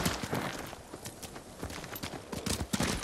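Horse hooves clop steadily at a walking pace on hard ground in the video game Ghost of Tsushima, a busy patter of hoofbeats close by with no talking.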